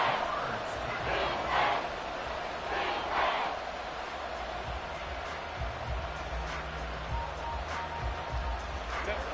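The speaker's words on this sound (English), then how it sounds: "The crowd getting into it as we come up on a big 3rd down." Stadium crowd noise in a Madden football video game forms a continuous broadband roar that swells slightly, mostly under a commentator's talk.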